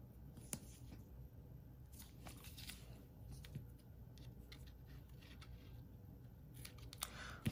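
Scissors cut through a plastic cello treat bag, a series of faint, scattered snips and crinkles close by in a quiet room.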